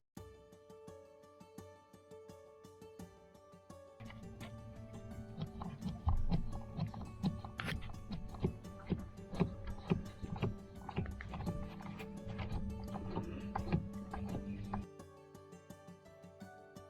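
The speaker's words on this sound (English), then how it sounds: "Now I have to prime the pump with this until the fuel comes out of this screw." A hand primer on a Yanmar marine engine with saildrive is pumped by hand during servicing, producing a fast run of close, rhythmic mechanical clicks and knocks over a steady low hum for about eleven seconds.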